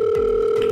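A telephone gives a brief, loud, steady electronic ring tone for an incoming call, heard close up and alone with no talking over it.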